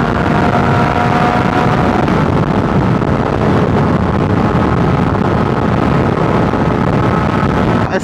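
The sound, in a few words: MV Agusta 800 Dragster motorcycle riding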